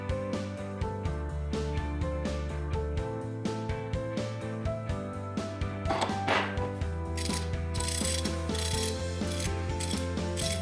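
A ratchet wrench clicks steadily in a quick, even rhythm through the whole clip. The sound is close and clear, with a metallic, pawl-driven ticking and no talk over it.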